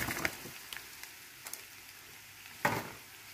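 Garlic and shrimp stir-frying in a pan, a faint steady sizzle broken by a few sharp clicks and scrapes of stirring, one louder clatter near the end.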